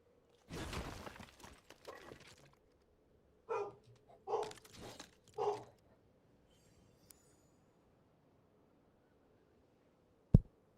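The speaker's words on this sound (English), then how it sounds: "Bones and Winnie are barking" Dogs indoors give a few short barks in scattered bursts, moderately near against a quiet background, followed by a single sharp click at the end.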